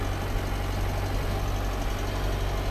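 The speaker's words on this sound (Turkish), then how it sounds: "traktörümüzün içindeki ses seviyesini ölçmek için belli bir süre sessiz kalacağım" Steady, loud engine drone inside a tractor cab while it pulls a spring-tine chisel cultivator at about 4.7–4.8 km/h, a continuous low rumble with broad noise and no voices.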